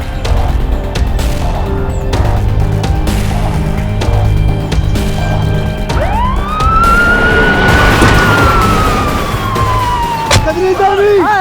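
A police car drives fast with its siren on. A steady engine and road rumble runs throughout, then a loud, close siren wail rises and sweeps, with voices briefly audible beneath it.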